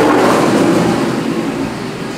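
A flame-spitting Ford Mustang revs its engine a couple of times, giving a steady, loud, close rumble that slowly tapers off with no talk over it.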